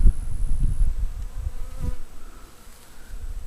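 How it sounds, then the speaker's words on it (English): Honeybees swarm out of a hive in the evening, a close, dense buzzing hum that wavers in loudness, with individual bees passing near and faint outdoor background. "they've basically all come out of the hive and they're just checking things out"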